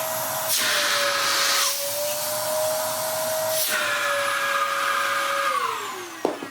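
A Dyson DC07 vacuum cleaner runs steadily through a grimy hose during an airflow test, giving a loud, continuous whooshing whine with a few small pitch shifts. It winds down with a short clatter at the end; no one speaks.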